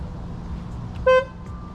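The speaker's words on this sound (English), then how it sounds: "so that's the A90 Supra horn" A Toyota A90 Supra sports car horn gives one short, bright honk lasting a fraction of a second, close and loud over a low background rumble.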